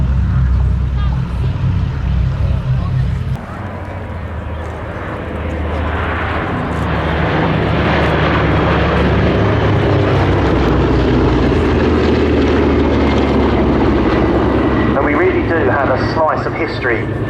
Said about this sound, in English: it's the Boeing B-17G Flying Fortress named Sally B